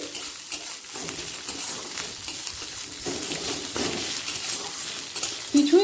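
Soaked chana dal frying in a pan for a potato curry, a steady bed of hiss with scattered scraping clinks from a spoon stirring against the pan, fairly close, with a brighter scrape right at the end.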